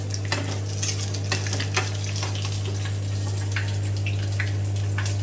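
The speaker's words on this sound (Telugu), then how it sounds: "దొండకాయ ఫ్రై చేస్తున్నాము" Ivy gourd (dondakaya) frying in a pan, a steady sizzle with scattered clinks and scrapes of a stirring spoon against the pan, close and continuous with no talking.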